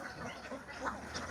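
Ducks quack loudly and continuously on a large duck farm beside a fish pond in Laos, a dense overlapping chorus of many birds close by with a few louder calls standing out.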